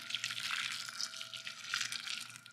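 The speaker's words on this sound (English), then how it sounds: "pour boiling filtered water over these" Boiling filtered well water is poured over dried tomatoes in a commercial kitchen, a soft continuous splashing trickle that stays fairly quiet and close throughout.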